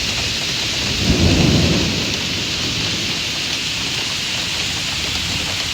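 A thunderstorm with heavy rain in Greater Noida: dense, steady rain hiss throughout, with a deep rumble of thunder swelling early and fading away.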